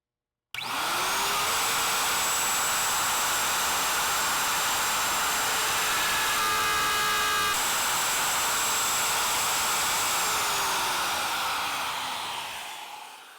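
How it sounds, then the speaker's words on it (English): Plunge router cutting a hinge mortise in wood, a steady loud high whine running continuously from a sharp start, with a slight pitch change midway and a gradual wind-down at the end, no talking. "Now I've got the router in position and I'm ready to cut the first mortise."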